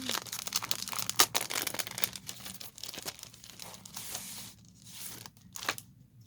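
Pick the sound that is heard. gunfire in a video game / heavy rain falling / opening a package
opening a package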